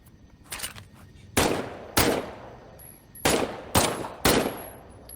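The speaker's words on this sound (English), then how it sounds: "why don't you test fire your weapon?" A weapon test-fired in Medal of Honor VR: five sharp, loud shots in an uneven rhythm, each cracking sharply then decaying with a short echo against a quiet background.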